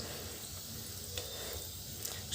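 Wheat-flour gulab jamun frying in hot oil, a steady soft sizzle with faint bubbling and a few small pops, quiet and continuous with nobody talking.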